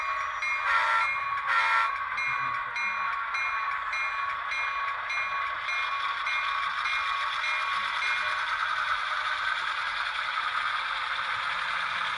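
A model train rolls in with a steady humming, whirring drone, and two short horn or whistle blasts sound near the start.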